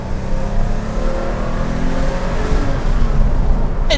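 Backdated Porsche 911 Carrera Sport from 911 Retroworks driving along a lumpy, bumpy, narrow road, a steady loud engine drone and rumbling road noise from inside the car, continuous throughout.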